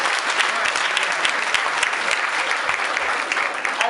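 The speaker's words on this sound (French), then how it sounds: "Je voudrais qu'on les applaudisse très fort" Vigorous, unbroken applause from a large audience at a charity gala dinner, loud and close, with dense overlapping claps throughout.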